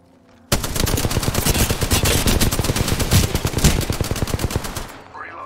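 Sustained automatic gunfire in Apex Legends, a dense rapid burst of shots lasting several seconds at close range, loud and continuous before cutting off.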